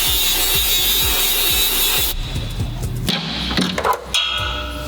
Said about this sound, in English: Right now I'm just trying to drill them out.